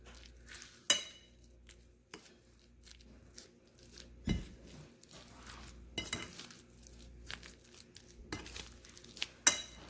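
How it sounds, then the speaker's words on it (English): Rinsed canned beans are mixed into prepared beef for a burrito filling, with close utensil clinks and scrapes against a dish. The knocks and stirring come in an irregular rhythm, fairly quiet, and no one speaks. "Now we're gonna add it with our prepared meat and mix it well before we fill our tortilla."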